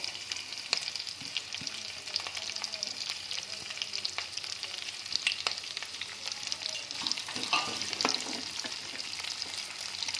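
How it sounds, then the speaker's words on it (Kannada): Onions and two green chillies fry in hot oil with a steady close sizzle, broken by scattered scrapes and taps of a spatula stirring the pan; nobody speaks. "ಇದನ್ನು ಇವಾಗ ಚೆನ್ನಾಗಿ ಕಲರ್ ಚೇಂಜ್ ಆಗೋವರೆಗೂ ಫ್ರೈ ಮಾಡ್ಕೊಳ್ಳೋಣ"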